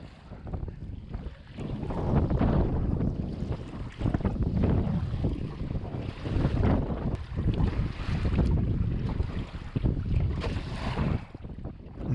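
Strong wind buffets the open water of Lake Immelin during a canoe crossing, a loud, continuous roar of gusts and microphone buffeting over lapping waves, with no voices.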